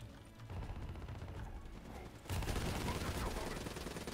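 Gunfire in the Black Ops 3 campaign, a dense continuous rattle of shots that grows louder and busier partway through.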